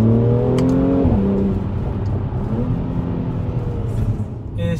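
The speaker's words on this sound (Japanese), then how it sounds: "このようにアクセルオフをするとこのようにマフラーからの、エキゾーストもかなり迫力のあるものに" A 2016 Mercedes-Benz C450 AMG 4MATIC in Sport Plus mode, its engine revving hard from inside the cabin, then easing off with a falling whir and exhaust burble, loud and close.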